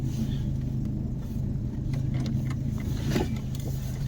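A Volvo 244 running on choke rolls along, its engine a steady low rumble heard from inside the cabin, with faint light knocks and rattles over the continuous drone.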